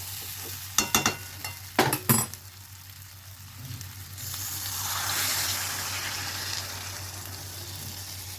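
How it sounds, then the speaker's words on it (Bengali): Water poured into a pan of spice masala frying in oil, for a jackfruit and potato curry: a few sharp clinks and stirring taps, then a broad hiss that swells and lingers as the liquid hits the hot pan. "এইবার জল ঢেলে দেবো এর মধ্যে"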